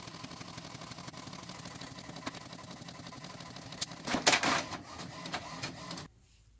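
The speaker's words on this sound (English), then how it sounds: "So there's my page printed off." A printer prints a page of a PDF sewing pattern, whirring and clicking steadily, then rising into a louder burst of mechanical rattling near the end before stopping abruptly into quiet.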